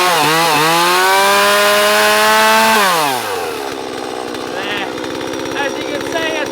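Petrol chainsaw revving loudly right after starting, a steady high engine whine that drops in pitch as it settles into a rough, buzzing idle up close.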